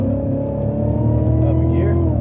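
A Cadillac CTS-V engine pulls steadily on a race track, a loud, sustained drone with rising pitch as power is reapplied, close and continuous throughout with a faint voice underneath.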